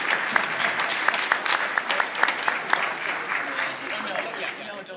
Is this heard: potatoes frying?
no